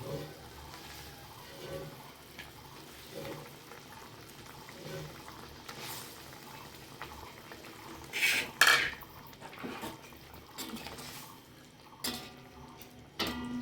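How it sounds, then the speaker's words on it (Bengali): Stuffed bitter gourds simmer in a little gravy in a pan, with a soft bubbling undertone, occasional utensil clinks and stirring scrapes, and a louder metallic clatter midway. Quiet voices can be heard in the background. "নেড়ে চেড়ে একটু জাল দিয়ে নেবো"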